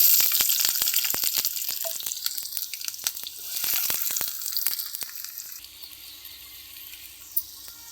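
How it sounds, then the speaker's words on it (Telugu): Onions sizzle and fry in hot oil in a pan for Telugu-style egg and tender tamarind leaf curry, a steady close bubbling hiss with crackles and pops, easing slightly toward the end, no voices. "ఉల్లిగడ్డలు తీసుకొని అది కొద్దిగా కాగిన తర్వాత నూనెలో వేసేసుకోవాలి"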